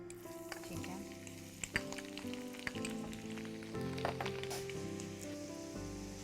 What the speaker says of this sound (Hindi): अब हम लहसुन फ्राई करेंगे।